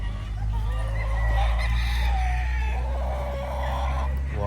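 Roundhead gamefowl crow and cluck steadily at close range, making a loud, continuous stretch of rooster calls over a constant low background hum.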